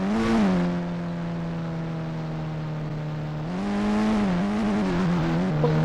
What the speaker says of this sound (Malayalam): നമ്മൾ റിവേഴ്സ് അടിച്ചുകൊണ്ടിരിക്കുകയാണ്.